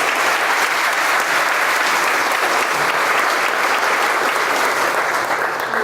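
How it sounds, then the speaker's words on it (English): At a Chamber of Commerce annual meeting and community awards, an audience gives volunteers dense, sustained applause that stays loud and steady throughout. "Can we have a round of applause for our volunteers?"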